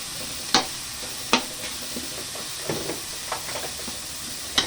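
Onion and tomato sautéing in a pan, with a steady sizzle and hiss broken by several sharp stirring scrapes and clinks at uneven intervals, close by and with no talking.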